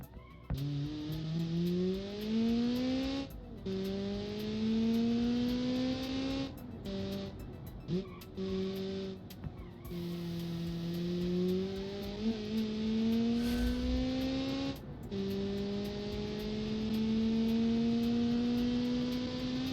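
A 4-cylinder turbo race car in a 1992 DTM-style racing video game revs loud and steady, its engine note climbing through gears with repeated shifts and brief drops across the run.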